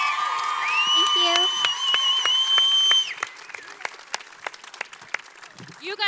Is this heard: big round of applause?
yes